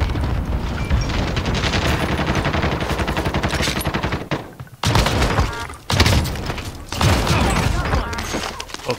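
Sustained Call of Duty: Warzone gunfire, with dense rapid bursts of automatic shots, a few thuds and a brief lull near the middle before the firing resumes loud and close, while players talk over it.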